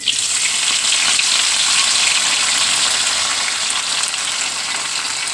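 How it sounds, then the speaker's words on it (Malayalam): Curry leaves and green chillies frying in hot oil give a loud, steady, hissing crackle that holds evenly throughout with no voices. "അതിന് ശേഷം നമുക്കിതാ കറിവേപ്പില ഈ എണ്ണയിലേക്ക് ഇട്ട് കൊടുക്കണം"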